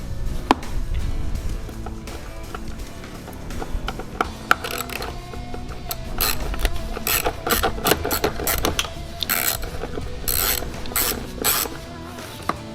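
A ratchet clicks steadily as it backs out the 10mm bolt holding the battery to its tray in a Jeep Wrangler JKU, driven through a 6-inch extension, the rapid pawl chatter running continuously with louder bursts of clicking, close and alone.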